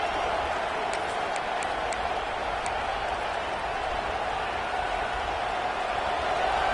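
Football stadium crowd at a Florida versus Auburn game roaring for the defense on a big third down, a steady massive wall of cheering from far off, with a few faint whistles early on.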